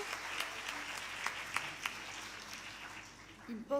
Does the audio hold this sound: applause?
yes